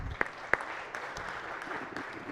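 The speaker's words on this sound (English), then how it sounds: "If you give her a round of applause" Scattered clapping from people on a state Senate floor greeting a page, fairly soft and thin, with a couple of sharper louder claps near the start and a low murmur of the room underneath.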